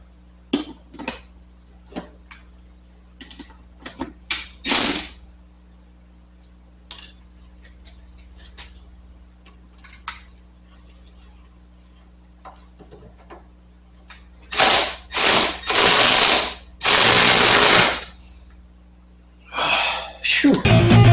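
A ratchet tightens a Road King motorcycle front fork tube during an oil change, giving runs of sharp metallic clicks and then louder bursts of rapid ratcheting near the end.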